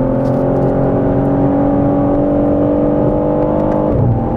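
A BMW M3 Touring on a race circuit, its engine holding a loud, steady droning whir from inside the car before the pitch drops sharply near the end as the driver comes off the throttle.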